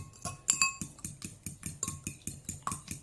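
A utensil stirs a fish food mixture for baby betta fish in a bowl, giving steady, rhythmic clinks and scrapes about every quarter second, close and fairly loud, with no talking.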